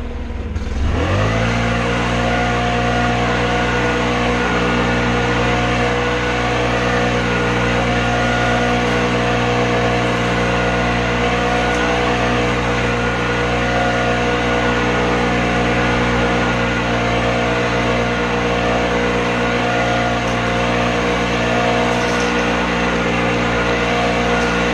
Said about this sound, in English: I don't really have any leaves or grass or anything to blow at the moment, so let's blow some rocks